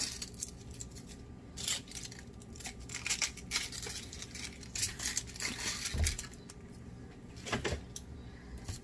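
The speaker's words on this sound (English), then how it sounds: "Alright, so now let's cut up the onion." An onion cut with a knife during home cooking of a meal-kit dinner, heard as irregular crisp, close-up clicks and scraping strokes with crinkly rustling, some louder chops standing out, and no talking.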